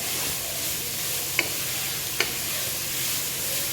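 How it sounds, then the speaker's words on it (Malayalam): Vegetables for fried rice are stirred in a hot pan, giving a steady, close sizzle broken by two sharp clicks of a spatula against the pan. "നമുക്ക് നമ്മുടെ വെജിറ്റബിൾസ് എല്ലാം നന്നായിട്ട് ഇളക്കി കൊടുക്കാം ജസ്റ്റ് ഒന്ന് വാടിയാൽ മതി വെജിറ്റബിൾസ്"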